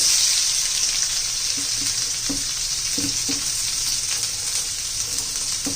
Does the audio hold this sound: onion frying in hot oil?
yes